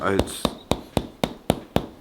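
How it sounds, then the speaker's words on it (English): Rhythmic percussive taps of a hammer massage on a body, about eight evenly spaced sharp knocks, close and fairly loud, with a brief voice at the start. "And Jason, describe to me when you get the toxin massage, the hammer massage"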